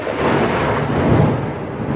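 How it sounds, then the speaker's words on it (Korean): Thunder from a lightning strike rolls loudly and steadily for the whole stretch, a deep continuous rumble with a swell near the middle, mixed with a faint hiss of rain; no voices. "아, 번개다."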